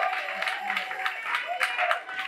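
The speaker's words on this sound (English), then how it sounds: "Can you give a clap of hands?" Church congregation clapping hands at a sermon on honouring spiritual fathers, a steady patter of many hands with voices and chatter mixed in throughout.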